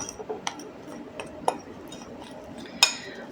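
A besan face pack paste being stirred with aloe vera gel in a bowl, giving soft scattered clinks and scrapes of a spoon against the dish, with a couple of sharper taps.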